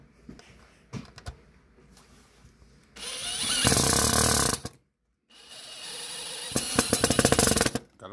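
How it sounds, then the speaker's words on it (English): A light electric drill whirs in two bursts, a steady loud run then a short pause and a second, slightly rougher run, with quiet handling noises beforehand. "This is a light drill."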